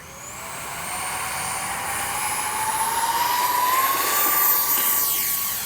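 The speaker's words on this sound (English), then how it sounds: "it's a twin 40 EDF with a 2600 4S in there, high rates" A small X-Fly Su-57 RC jet with twin 40mm EDF fans, on a 4S battery at high rates, makes a steady loud whine whose pitch climbs and then holds as it makes a fast pass, with no talking.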